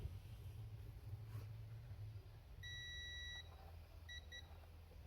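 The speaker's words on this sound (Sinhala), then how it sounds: "පේනවනේ දෙපැත්තටම බසර් එක වදිනවා." A multimeter continuity buzzer beeps while testing a shorted capacitor on an Acer Aspire 5 LA-E892P laptop motherboard, one longer faint tone followed by two short beeps over a quiet hum.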